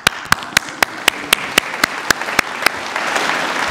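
Audience applause at a medal ceremony, a soft bed of crowd clapping punctuated by a regular series of sharp, loud single claps close by, the sharp claps stopping near the end as the general applause swells slightly.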